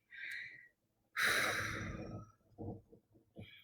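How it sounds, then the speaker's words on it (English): A long, breathy exhale released during a guided calming breathing exercise, preceded by a shorter breath and followed by a few softer breaths, close and quiet with no talking. "So this breathing exercise, as Dr. Anjali shared with us, is something that is shown to really help calm, center, and focus us"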